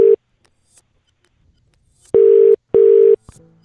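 An electronic telephone tone sounds as short, loud, evenly pitched beeps: a brief one, a pause, then two longer pulses close together.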